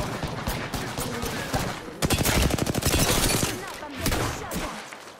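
Rapid gunfire from an Apex Legends firefight: a loud burst of fast, evenly spaced shots in the middle, with scattered shots before and after, heard close up over game noise and occasional voices.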